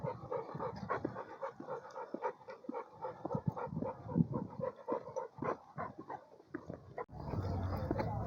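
A dog pulling hard on a leash pants rapidly and steadily, close and fairly quiet, with rustling outdoor noise around it.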